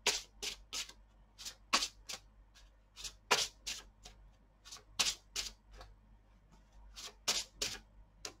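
Tarot cards being shuffled by hand, a close, crisp series of riffling bursts repeating in an uneven rhythm throughout, with no talk.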